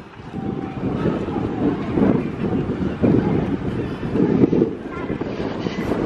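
Strong wind blows across a beach on a cruise line's private island, a steady loud roar buffeting the microphone throughout, with people talking faintly underneath.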